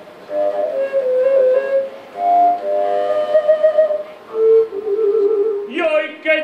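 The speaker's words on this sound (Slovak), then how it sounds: "To je unikát v tom, že je to najväčšie píšťala na svete prakticky a má len 3 dierky" A large Slovak folk pipe with three finger holes plays a melody of sustained, slightly breathy notes, loud and close, at a summer folklore festival.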